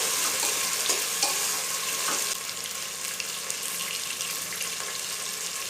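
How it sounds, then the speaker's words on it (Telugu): Green peas fry in a pan for vegetable biryani, a loud, close, steady hiss of frying with a few light stirring scrapes; the sizzle eases slightly partway through. "కొద్దిగా గ్రీన్ పీస్ కూడా వేసుకుని మరోసారి కలిసేలాగా వేయించుకుని"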